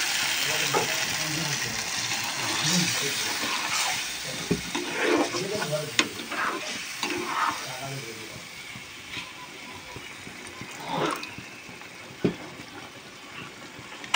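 A brinjal curry hissing and bubbling in the pan right after water goes in, with a soft, steady sizzle and scattered spoon scrapes and clinks over it.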